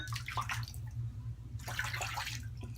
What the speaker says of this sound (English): Rinse the blade.